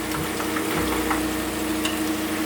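Shiitake mushroom pieces deep-frying in hot oil, a steady close sizzle and bubbling crackle that holds evenly throughout with no talking.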